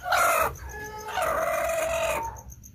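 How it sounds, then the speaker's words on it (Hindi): A broody hen that has been sitting on eggs clucks and croons close by, a short run of throaty, wavering calls lasting a couple of seconds. "ये है वो मुर्गी।"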